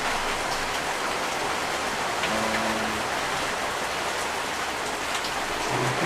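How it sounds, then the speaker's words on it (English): Steady rain falling, a dense even hiss of drops that runs without break, moderately loud and close, with a faint low tone briefly underneath. "Please don't mind the background noise. It's rain and it's falling"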